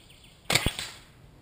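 A single sharp snap of an arrow released from a bamboo yumi bow at an outdoor 3D archery tournament, close and brief, followed by a short fading thud.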